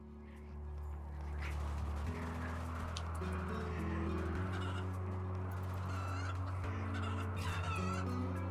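Chickens and roosters cluck and call in the Rimworld video game, a steady honking, goose-like fowl chorus with layered tonal hum running continuously at moderate level.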